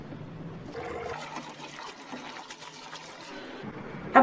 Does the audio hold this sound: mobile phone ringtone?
no